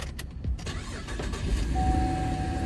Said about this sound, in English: Let me go ahead and start it up so you can see what it sounds like when you start it.